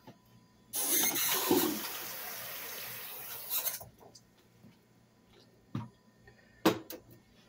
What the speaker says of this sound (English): I'm going to add two and a half cups of water.